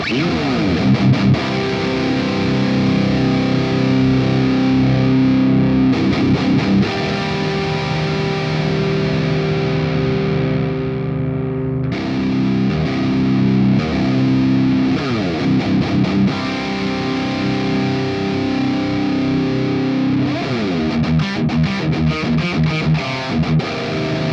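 Distorted high-gain electric guitar through a Fractal high-gain amp model being dialed in plays riffs and sustained chords, saturated and dense, with brief pauses between phrases, no voices.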